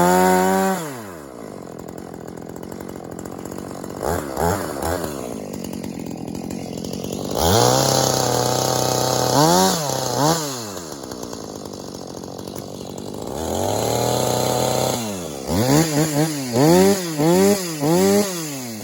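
A chainsaw cuts through poplar trees being felled, revving in repeated loud bursts that rise and fall between cuts, close and alone with no talk.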